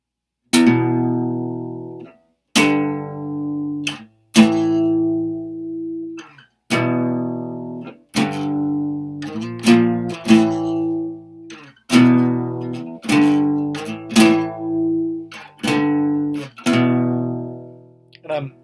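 Slow electric guitar power chords, played on only the two lowest strings with the other strings muted, each chord ringing out and then cut off in a halting rhythm, close and clear with no talking.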